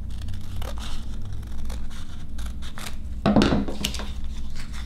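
Scissors cutting crepe paper at an angle: soft close crinkling and snipping, with one sharper, louder cut near the end, and no talk.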